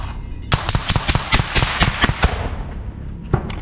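A rapid burst of gunshots cracks out in quick succession during a frontline assault in the war in Ukraine, then slows to a few scattered shots, loud and close.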